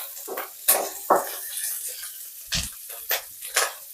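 Onions frying in a pan for a Telugu bendakaya (okra) roti pachadi, with soft sizzling broken by several sharp bursts as they are stirred or shifted, close and moderately loud.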